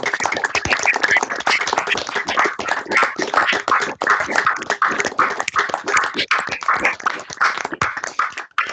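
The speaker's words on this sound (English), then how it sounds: "let's all give Mr. Sherman Irby a round of applause" Participants on an online rehearsal video call, unmuted, clapping together in a dense, steady patter of many hands that continues loud and close throughout.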